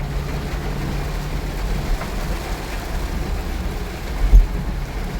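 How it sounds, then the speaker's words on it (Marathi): Heavy rain pours on a slow-moving tempo vehicle during monsoon travel in Konkan, a steady broadband wash with low engine rumble underneath and one brief thump near the end, no talk. "मस्त पाऊस लागलेला आहे आम्हाला."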